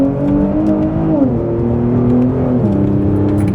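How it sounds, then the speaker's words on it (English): A Kia Stinger GT with a raspy six-cylinder engine accelerates. The engine note rises smoothly through the revs with a brief dip as it shifts up, then climbs again. It sounds loud and close, with no talking. "It's like that really raspy 6-cylinder sort of soundtrack to it."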